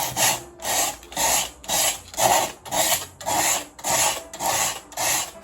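Sandpaper rasps back and forth on wood in a steady rhythm, about nine even strokes, close and clear with no talking.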